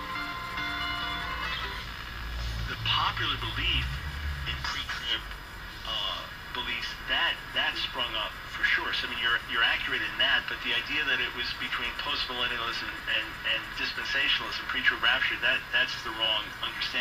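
A vintage Musicaire radio plays through its freshly rebuilt loudspeaker, putting out a steady broadcast of voice-like sound with a thin, boxy tone at moderate volume for the whole stretch.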